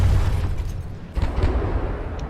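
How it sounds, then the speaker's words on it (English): A deep booming explosion from a shell hitting a ship in the naval combat game From The Depths, heavy low rumble with a second burst partway through, loud and close. "Those heavy barrels seem to have held and kept the explosion from punching in."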